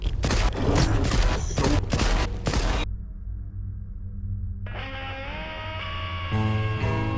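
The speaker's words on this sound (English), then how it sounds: "That is 15 headshots from a gauss rifle to kill one Pseudogiant" Gauss rifle shots strike a Pseudogiant in the video game Stalker 2: a rapid burst of sharp, loud discharges followed by a quieter electronic hum and rising whine as the weapon recharges.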